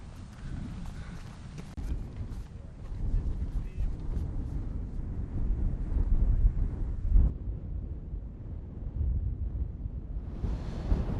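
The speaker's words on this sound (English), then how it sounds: "As you can probably hear, it's incredibly windy." Strong wind buffets a microphone in heavy, rumbling gusts that come and go continuously on a 3000 m clifftop in the mountains, with no clear voices.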